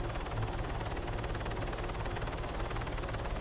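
Helicopter in the video game Modern Warfare 3, a steady close rotor drone with rhythmic blade chop running continuously and loud throughout, with no talk over it.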